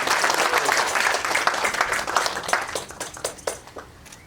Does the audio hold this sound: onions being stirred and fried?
no